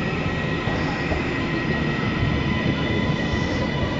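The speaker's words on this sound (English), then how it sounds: "And this makes our second train." A train rolls steadily along the rails, a continuous rumble with faint high squealing and hum, heard from inside the carriage.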